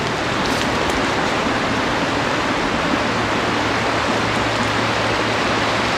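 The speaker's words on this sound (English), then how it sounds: "This creek is stunning" Creek water flows steadily through a wooded nature preserve, a dense, continuous rushing wash that holds even and close throughout with no voices.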